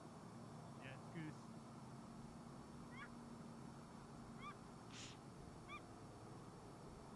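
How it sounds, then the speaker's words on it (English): A goose honking outdoors along a lakeside walking trail near Queenstown, New Zealand: several short, faint, distant honks spaced a second or so apart over a steady background hum, with quiet talking in between. "but it's goose. It did that noise. It's just goose."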